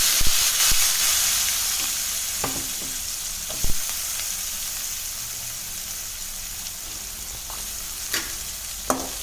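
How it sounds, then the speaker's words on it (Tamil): Onions and curry leaves frying in hot oil in a kadai for Tamil-style egg curry, a steady loud sizzle broken by occasional stirring clinks and scrapes. "வெங்காயம் போட்டு நல்லா போகணும் கருவேப்பிலை போட்டுக்கலாம்"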